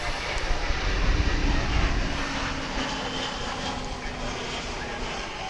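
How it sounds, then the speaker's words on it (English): An airliner arriving from El Paso rolls in at DFW International Airport, its jet engines giving a steady, broad roar from a moderate distance that swells slightly at first and then holds evenly throughout. "A flight arrival from El Paso in Texas."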